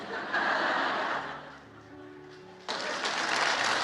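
Church congregation applause and murmuring during a sermon, dipping in the middle and then swelling again, with some laughter mixed in.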